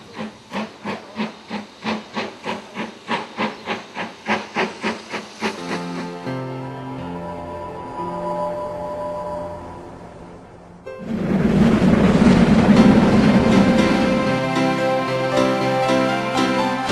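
BR Standard Class 9F steam locomotive heard from its driving cab: a steady run of rapid, rhythmic exhaust chuffs, then a quieter hissing stretch with a low tone, then a loud sustained rush of steam to the end.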